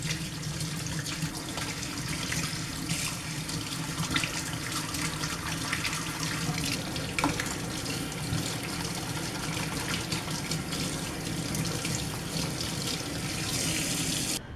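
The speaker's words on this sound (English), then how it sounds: "I am going to rinse my hair with cold water." Cold water runs steadily from a tap as hair is rinsed under it, a constant close splashing hiss with no pauses and no talk.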